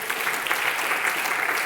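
Worshippers at a church service clap for the Lord during a sermon, giving a short, steady wash of applause that stays even and unbroken throughout.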